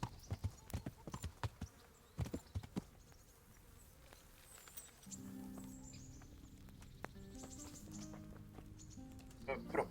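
Horse hooves clip-clop in Kingdom Come: Deliverance, with irregular close steps during the first half before a steady tonal drone takes over.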